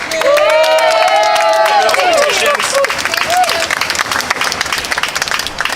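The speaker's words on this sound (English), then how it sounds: "let's just give them both a hand of applause" Applause from an outdoor crowd at a petition delivery to Virginia's environmental agency, steady clapping mixed with cheering, a voice speaking over it partway through.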